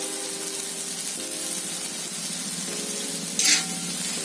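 Boiled potatoes with salt sautéed in a pan for a Marathi dry potato bhaji, a steady soft sizzle throughout with one brief louder hissing spray near the end. No one speaks.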